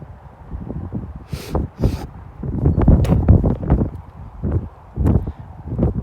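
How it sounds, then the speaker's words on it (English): Gusts of wind buffet a nearby microphone in uneven rumbling bursts, with occasional rustling and sharper knocks mixed in. "It's a little windy, but don't let that distract you or bother you guys"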